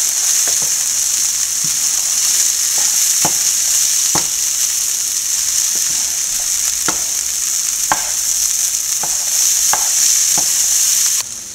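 Cooked mung beans stirred into a sautéed mixture for a thoran, a loud continuous sizzle with sharp scraping stirs at irregular intervals.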